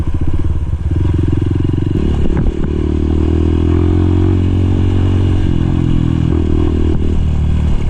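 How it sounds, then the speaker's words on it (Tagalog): A powerful enduro dirt bike engine roars loudly and steadily up close on a rough trail in Zambales, its pitch shifting with throttle changes, amid clattering and scraping. "malakas yung motor na gamit natin"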